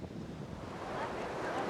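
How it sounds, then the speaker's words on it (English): Ocean waves wash onto the beach at Mahabalipuram, a steady, soft surf rumble that swells slightly louder toward the end, carried with wind noise and no voices. "the murmurings of the waves ahead of me"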